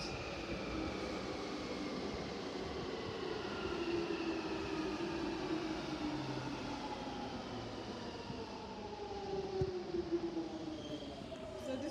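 A London Jubilee line train arrives at Southwark station with a low, steady rumble and rising and falling motor whine, moderately distant and continuous throughout.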